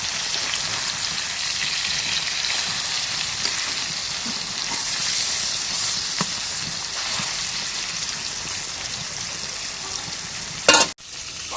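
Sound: fish frying in a pan

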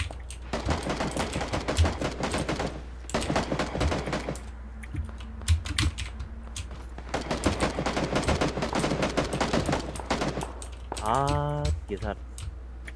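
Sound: gunfire in a video game

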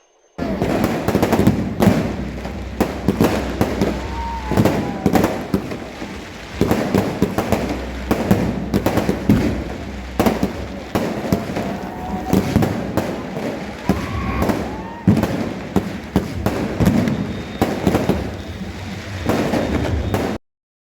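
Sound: firecrackers and fireworks going off in front of hotels

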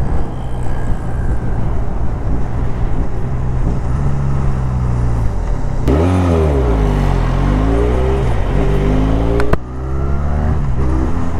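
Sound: Benelli Leoncino 500 motorcycle engine revving at top end

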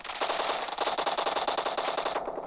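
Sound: gunfire in a video game

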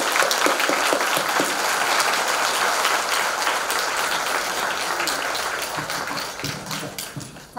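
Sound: audience round of applause at a welcoming ceremony

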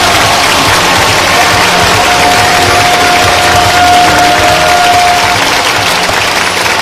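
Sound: audience applause at Marineland dolphin show

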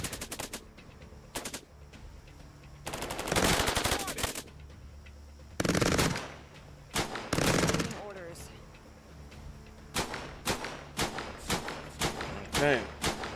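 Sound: turret machine gun fire in the video game Cepheus Protocol

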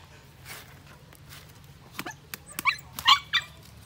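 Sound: dogs barking

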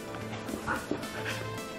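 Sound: Goldendoodle dog whimpering

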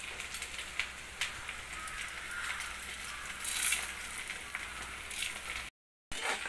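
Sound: urad dal and chilies frying in oil

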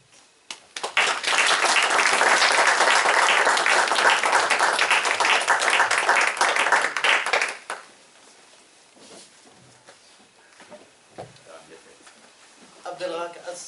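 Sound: audience applause after a poetry reading

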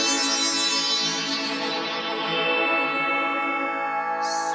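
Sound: FM synth pad with flanger effect

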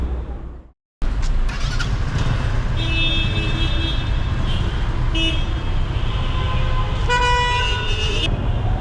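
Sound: car horns honking in city street traffic, Egypt

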